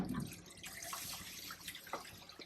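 Water drains steadily from an RV holding tank during a flush, a faint continuous trickling and splashing with small drips heard up close.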